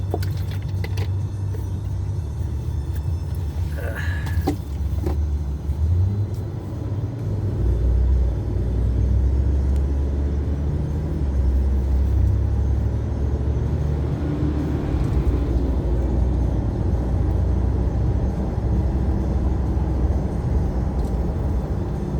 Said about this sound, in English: This intersection is always busy